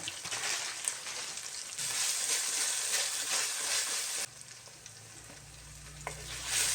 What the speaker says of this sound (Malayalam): കറിവേപ്പില എല്ലാം കൂടി നമ്മളതിന് ഇട്ട് വഴറ്റുകയാണ്